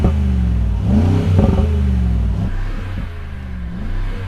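Rolls-Royce Cullinan V12 engine revved during a sound check, several rising and falling throttle blips close by, loud and alone with no talk.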